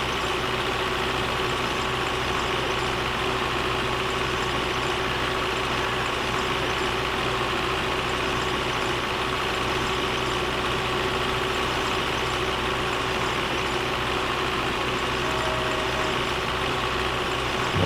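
A tractor engine drones steadily while mowing a field in Farming Simulator 22, a continuous low, even hum that stays level throughout with no other sounds.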